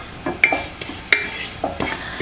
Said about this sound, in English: Once the oil is hot, you're going to put in your cumin seeds.